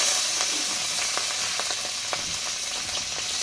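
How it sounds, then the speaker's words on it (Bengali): Prawns hiss and sizzle in hot oil in a wok with dried red chillies and whole cumin, a dense continuous frying noise with faint crackles, close and loud, no voices. "এবার দিয়ে দেবো আমি চিংড়ি মাছ,"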